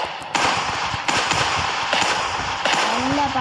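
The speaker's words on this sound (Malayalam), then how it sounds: "നല്ല പടക്കം പൊട്ടിക്കുന്ന സൗണ്ട്" Video game firecrackers go off in four loud, close crackling bursts spaced about a second apart, with a rising whistle near the end.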